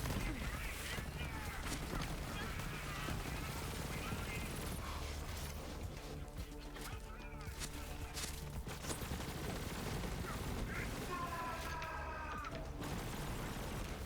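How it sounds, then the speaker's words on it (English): Grenades spammed in Borderlands 3 during Bloody Harvest DLC farming: a dense run of bursts and gunfire-like cracks over continuous game music and effects, with a brighter flurry near the end. "I'm just gonna spam some grenades."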